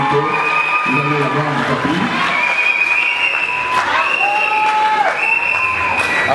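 An audience claps for a graduate receiving her diploma at a certificate ceremony, the applause steady but partly covered by voices and music.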